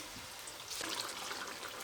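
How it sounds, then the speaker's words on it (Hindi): A faint trickle of water pours into a pot of spiced ginger chicken karahi, a soft splashing stream that starts midway and continues briefly. "साथ थोड़ा सा पानी भी मैं डालूंगी।"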